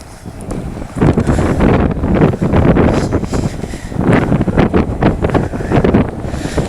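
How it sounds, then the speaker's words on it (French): Gusty wind buffets the microphone in heavy, uneven rushes that swell and drop over several seconds. "Et le vent se lève."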